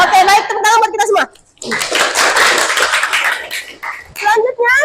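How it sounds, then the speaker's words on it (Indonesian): Schoolchildren in a junior high classroom clap together in a dense burst of applause, with a teacher's voice before and after and some scattered chatter and laughter. "tepuk tangan buat kita semua"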